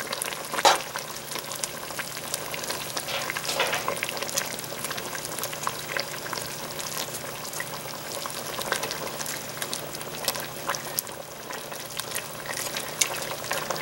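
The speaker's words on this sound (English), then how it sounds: "And then just stir them all around. It's really hot." Noodles and bok choy frying in a very hot pan for a brothy Chinese noodle dish, a dense continuous sizzle and bubbling with scattered crackles and faint stirring scrapes throughout.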